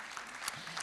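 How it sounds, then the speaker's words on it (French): Brief, faint applause from a conference audience at a regional health-users' rights day, a soft patter of clapping lasting under a second. "Merci de les applaudir."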